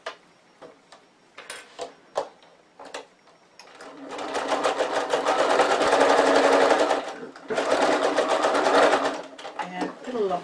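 A domestic sewing machine running a straight stitch along the seam of a zip pouch, first a few short ticking needle strokes, then a loud, steady whirring run, a brief pause, and a second sustained burst, close and clear.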